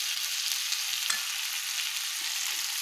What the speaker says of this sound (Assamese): নিমখ হালধি দি পেলাই আলুখিনি অলপ সময় ভাজি